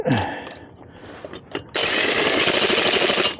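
An impact wrench works on car wheel lug nuts at its lowest speed and strength setting, giving a few short bursts followed by a long loud continuous rattling buzz, close by.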